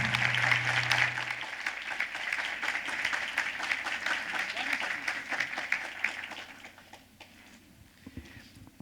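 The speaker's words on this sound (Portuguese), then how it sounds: "pedir a você, penhoradamente, uma salva de palmas" Applause at an OAB lawyers' closing event fills the hall, loud and steady for about six seconds. It then thins out and fades toward the end.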